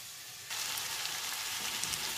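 Carrots and French beans hit a hot pan for a sour and spicy chicken soup, and a steady, close sizzling hiss starts about half a second in and holds without pause.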